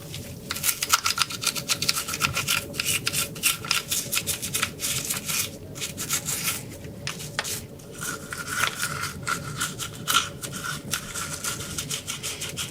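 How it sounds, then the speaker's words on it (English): A brush scrubs a Mikuni carburetor part, giving rapid, uneven scratchy strokes close by with brief pauses between bursts. "And give it a good scrub."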